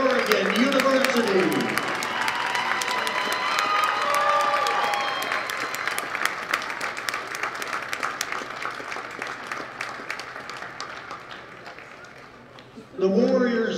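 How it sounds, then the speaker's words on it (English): Volleyball fans clap and cheer in a large hall at a college women's volleyball semifinal, applause starting loud under an announcer's voice and gradually thinning out before speech resumes. "Fans, let's give a nice round of applause to the Mountaineers of Eastern Oregon University."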